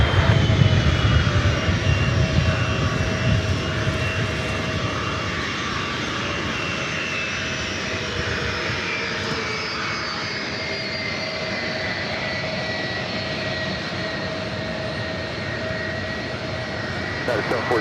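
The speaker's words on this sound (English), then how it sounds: "we got that United 757-300. Next" A United Boeing 757-300 jet taking off at LAX, its engine roar loud and steady throughout with a slowly shifting whine, while people talk faintly underneath.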